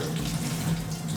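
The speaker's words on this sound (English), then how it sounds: "We're going to wash it under cold water." Steady rush of tap water running and splashing in a sink, close and continuous.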